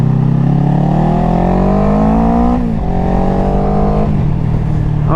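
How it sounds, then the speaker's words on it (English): A Kawasaki Ninja 650 motorcycle engine revs hard close by, pitch climbing steadily, dropping briefly, then rising again in a continuous loud roar. "Oh, this thing sounds so good."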